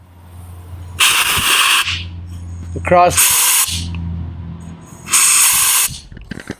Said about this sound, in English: Let me show you how this works with a little bit of an air nozzle.